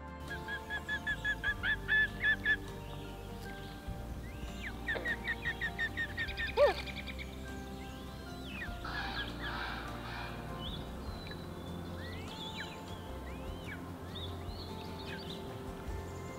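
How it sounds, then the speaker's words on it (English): Young loons call on a lake, a series of faint, high peeping and wavering cries scattered through a quiet outdoor scene, some in quick repeated bursts. "Young loons are also actually very vocal"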